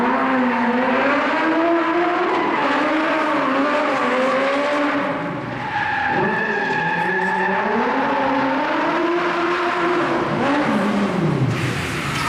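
A stunt car at a live extreme stunt show engine set roars and revs loudly with long sliding tire squeals, its pitch sweeping up and down continuously across the clip, close and alone.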